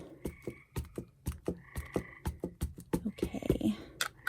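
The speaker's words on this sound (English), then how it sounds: "Can you guys hear all the frogs out in my backyard? It is an orchestra." Frogs in a backyard chorus at night, sharp croaks pulsing in quick repeated bursts, some near and loud, others overlapping in the background.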